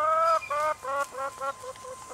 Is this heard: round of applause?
no